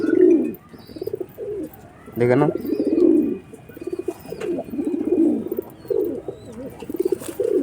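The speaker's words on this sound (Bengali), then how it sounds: "এই একটা পায়রের বাচ্চা ম্যাডিসি পায়রার বাচ্চা" A pigeon chick coos softly in short bursts while people talk nearby.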